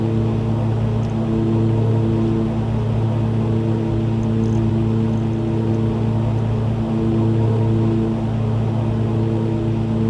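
A single-engine propeller plane's engine in the flight simulator X-Plane 10 drones loudly and steadily, a constant buzzing hum with a low rumble under it that carries on unchanged for the whole stretch, with no speech.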